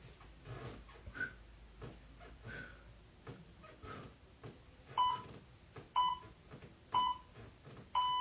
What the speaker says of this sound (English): Let's go through the timer.